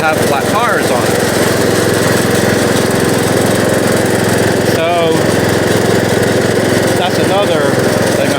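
Bolens lawn tractor engine running steadily, a loud continuous drone close by, with a brief spoken word partway through.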